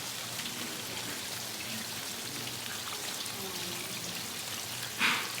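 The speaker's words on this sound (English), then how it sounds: "There's a waterfall." Water pours steadily from an indoor waterfall inside a hot conservatory, a constant close splashing wash that sounds much like rain, running alone with a brief louder splash near the end.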